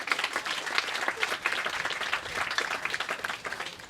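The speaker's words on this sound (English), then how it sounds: "Nice round of applause for Skylark Rossetti, everyone." Audience applause at a celebration of life, a dense, steady patter of many hands clapping at moderate distance, sustained for a few seconds without speech.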